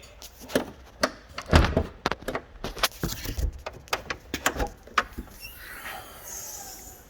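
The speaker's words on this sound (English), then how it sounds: "let's open the bonnet so we can see it" Bonnet of an accident-damaged Alfa Romeo Brera being opened: a series of close metallic clunks, latch clicks and thuds in quick irregular succession, fading to quieter rustling at the end, with no talk.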